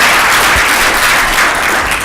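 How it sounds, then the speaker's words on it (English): Loud, sustained applause from a crowd at a closing session, honoring civil society participants, a thick unbroken roar of clapping close by with a few faint voices beneath. "let's have a round of applause for the civil society"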